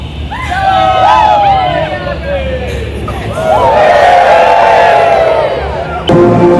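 A large crowd cheers and shouts loudly after a game, with whoops and rising yells swelling and fading, while a marching band sits somewhere in the mix and people chatter nearby.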